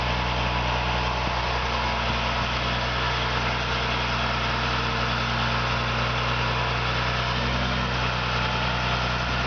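GMC TopKick C7500 4x4 bucket truck in cold weather, its engine running steadily while the hydraulic boom swings, a constant loud low drone and hum with an even, unbroken texture throughout.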